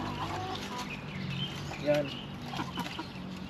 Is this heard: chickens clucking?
yes